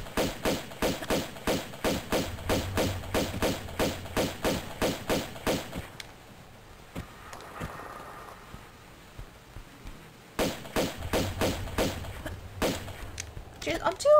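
Rapid pistol shots fired in Tomb Raider II Remastered, a steady run of sharp cracks that stops for a few seconds and then starts again at the same quick rhythm, loud and close.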